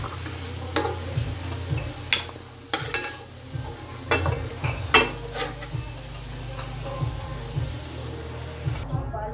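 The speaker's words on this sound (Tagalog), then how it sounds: "pipirituin muna natin yung carrots at patatas natin" Carrots and potatoes sizzle steadily in a frying pan, a continuous hiss broken by scattered sharp crackles and spatters, with a faint low hum beneath, fairly close and moderately loud.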